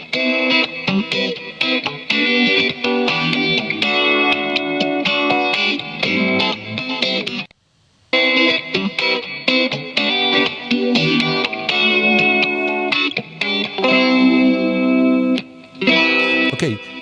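Two layered electric guitar recordings from a home setup play together, strummed with a distorted, effected tone, loud and continuous with a brief pause midway.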